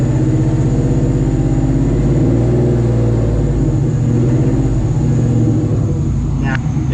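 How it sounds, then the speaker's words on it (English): A Ford Mustang engine with an unfixed exhaust leak runs close and loud, with a steady, throbbing, rough drone that continues unbroken throughout and only small swells in level. "The exhaust leak is still not fixed."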